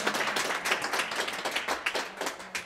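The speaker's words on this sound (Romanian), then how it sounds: "Aplauze vă rog" A small crowd applauding at a working equitation horse event, uneven clapping that swells and dips throughout, moderately loud and without voices.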